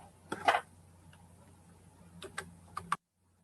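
Keystrokes on a computer keyboard, tapped in small bursts: a quick cluster early on, then several sharp clicks near the end, close and fairly quiet over a low hum.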